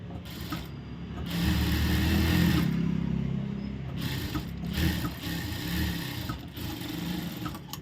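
A sewing machine runs continuously while stitching the edge of a blouse piece, its close mechanical whirr swelling slightly midway and then settling into a steady hum.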